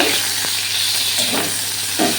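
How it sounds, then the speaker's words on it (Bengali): Cauliflower frying in a little oil in a pan, heard as a loud, close, continuous sizzle with a few brief stirring scrapes and no voices. "তেল দিয়ে ভাজছি কিন্তু নুন দিইনি তো"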